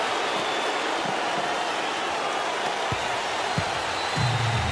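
Steady, dense arena crowd roar in an NBA 2K basketball video game, a continuous wash of noise with a few faint thuds and a brief low hum near the end.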